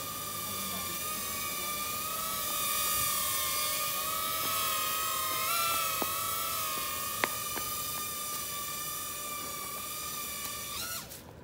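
A small UFO-style drone flying on its own gives off a steady, high-pitched motor whine that holds nearly constant and wavers slightly, fairly close throughout, with a few faint clicks and no talking.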